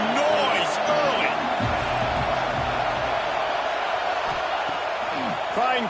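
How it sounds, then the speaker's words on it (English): A stadium crowd at a USC versus Alabama college football game sends up a loud, sustained roar with whoops and cheers, while a commentator talks over it throughout. "This crowd bringing the energy and noise early"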